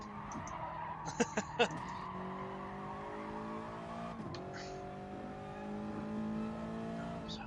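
Project 1 Toyota 86 homologation race car in a racing video game, steady engine drone with shifting pitch as it revs through gears, plus brief squeal-like ticks early on, heard continuously at moderate level.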